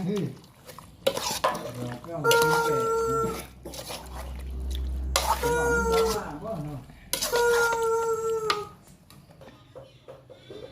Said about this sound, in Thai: แล้วก็คนเลย